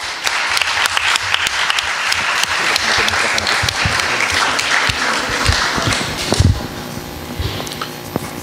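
Sustained applause from an audience at a university conference on HIV and AIDS in Catanzaro, dense clapping filling most of the clip before thinning out toward the end, with a faint voice briefly audible.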